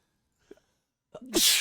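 A single sharp human sneeze bursts out after a faint intake of breath, loud and close in an otherwise quiet room.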